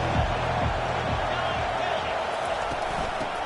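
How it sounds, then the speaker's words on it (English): A football stadium crowd at a Tennessee v Miami game keeps up a broad, continuous roar with occasional cheers, heard at a distance beneath a speaking voice. "This crowd bringing the energy and noise early"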